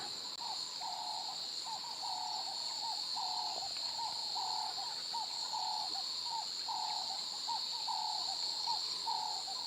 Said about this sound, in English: You can hear quite a wealth of different bird species around. Some insects